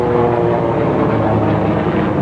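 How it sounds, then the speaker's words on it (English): A helicopter passes directly overhead during a D-Day anniversary event, a loud, dense, steady rotor and engine roar filling the short stretch without any speech. "The helicopter's immediately overhead."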